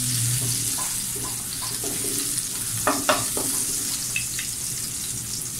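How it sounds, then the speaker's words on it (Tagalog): Garlic frying in a pan until golden, a steady close sizzle with a low hum underneath and a few brief scraping stirs around the middle, no talking. "Golden brown natin yung bawang."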